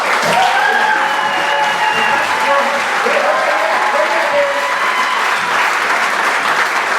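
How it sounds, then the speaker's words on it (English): A concert audience gives sustained, loud applause for a band instructor at a youth music event, a dense steady wash of clapping with some voices and whoops faintly riding on top throughout. "let's give a huge round of applause"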